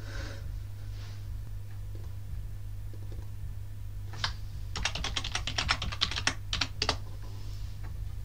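A computer keyboard being typed on while setting up remote access to a Raspberry Pi: a short, fast burst of close keystroke clicks in the latter half, after quiet room hum and faint breathing.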